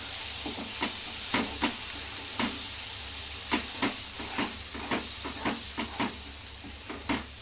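Ground spinach paste sautéing in a pan for palak paneer, a steady sizzle and hiss broken by repeated soft scraping stirs of a spoon.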